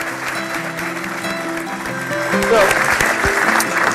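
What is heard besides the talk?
audience applause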